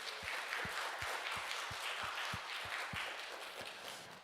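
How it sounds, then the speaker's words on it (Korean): Church congregation clapping in praise during a Wednesday worship service, a dense sustained wash of many hands with a steady rhythmic beat of claps running through it, fairly loud and even throughout with no voices on top. "영광의 박수 올려드리겠습니다."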